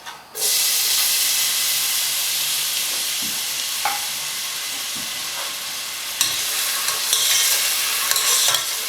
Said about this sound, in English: add about 3 to 4 tablespoons of cooking oil, and add the chopped onions to it